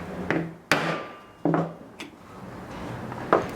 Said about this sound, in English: These side ones, use a screwdriver and a hammer to flatten them out.